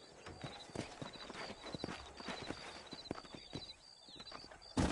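Horses walk along in the Red Dead Redemption video game, their hooves clip-clopping in a steady, uneven patter of close, moderately loud hoofbeats over a faint outdoor background, with no talk.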